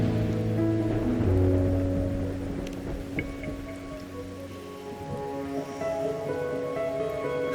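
Night rain in the video game Wuthering Waves patters steadily on surfaces throughout, mixed with soft sustained musical tones, fairly loud and even with no talking.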